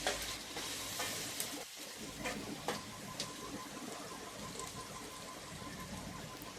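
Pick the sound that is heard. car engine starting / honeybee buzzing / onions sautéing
onions sautéing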